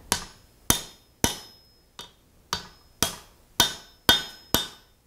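Hammer blows strike hot metal over the edge of an anvil while making a rivet header, nine sharp ringing impacts at a fairly steady pace, each with a short decaying ring, close and alone.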